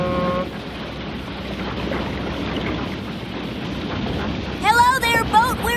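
Rumbling boat engine racket on a river near Hannibal, a steady broadband roar filling the whole stretch, with a voice calling out near the end over the noise.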